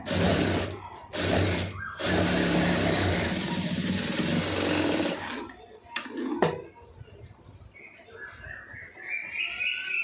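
A sewing machine runs in close, busy bursts while stitching a lined blouse, then stops, leaving softer handling sounds and faint bird-like chirps.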